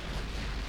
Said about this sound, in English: Torpedo detonation aboard Katsura